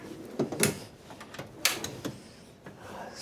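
A PPE drawer in a workshop being opened: a few short rattling clunks and slides, fairly quiet and close, with no talking.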